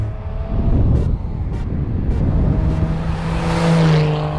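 A 1970 Triumph GT6+ engine pulls hard under acceleration, a loud, continuous grindy and raspy drone rising steadily in pitch, with a few faint clicks over it, heard from inside the car with no talking.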